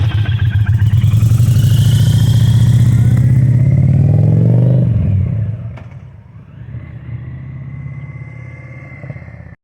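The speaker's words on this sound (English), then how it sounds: "First one's going to be from a takeoff, and then a drive-by at between 25 and 30 mile an hour." A 2023 Indian Challenger with a Lloyd's slip-on exhaust pulls away from a stop: a loud, throaty V-twin rumble builds through acceleration, then fades as the bike moves off, leaving a quieter distant engine drone.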